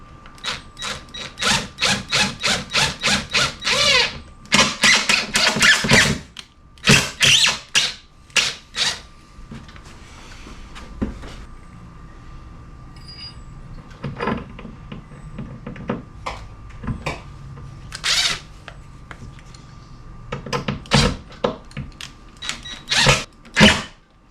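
Coarse thread drywall screws driven into wood with a power driver, repeated short whirring bursts in quick runs, then sparser bursts with quiet gaps and some handling knocks between.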